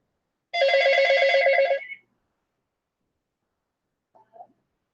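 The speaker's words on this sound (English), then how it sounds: "Sorry about the phone ringing, guys." A telephone bell rings loudly in a single burst of about a second and a half, with a steady warbling trill, then stops into silence broken by a faint, brief sound.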